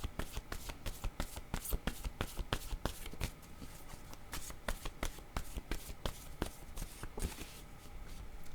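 A deck of playing cards is shuffled over and over, producing rapid papery riffles and sharp flicks in a steady, close-up rhythm throughout.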